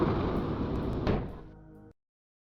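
A big green shutter door in an animated scene, a steady rolling rattle followed by a sharp clunk, then a fading rumble that stops abruptly into silence.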